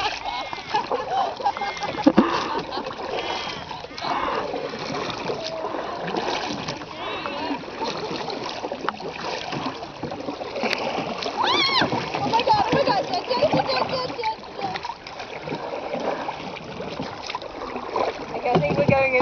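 Canoe paddling on a river in Kalbarri National Park, with irregular paddle splashes and water sloshing under frequent nearby talk from adults and children.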